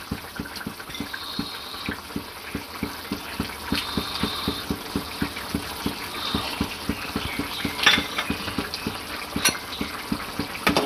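A spoon stirs boiled potatoes, papaya and fried chana dal fritters in a pan, with rapid regular scraping strokes over a low simmering sizzle, close and steady throughout.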